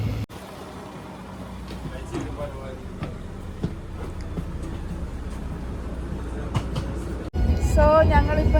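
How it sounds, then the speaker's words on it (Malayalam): A train at a small German railway station gives a steady low rumble throughout, with a sudden louder, brighter burst of noise near the end. "സോ അതാണ് ഞങ്ങളുടെ ട്രെയിൻ, ബ്രെമൻ ഹെഡ്വാനോഫ്."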